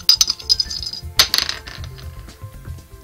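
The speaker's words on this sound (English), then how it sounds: "Should I roll 2 dice or..." Two dice rolled onto a hard surface during a game, a sharp clattering tumble and bounce followed by a few softer settling clicks, close and loud.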